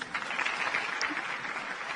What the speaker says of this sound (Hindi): वो तो तालियां बजानी शुरू कर दी।